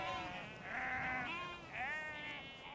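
Sheep on Dartmoor bleating as a flock, several overlapping wavering calls close by, continuous over a steady outdoor background with no talk.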